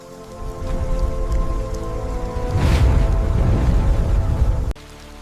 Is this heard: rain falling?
yes